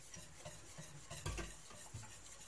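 Rice flour and milk pudding is stirred in a pot with a spoon, giving soft rhythmic scraping strokes about every half second with a gentle bubbling sizzle underneath, close and quiet with no talking.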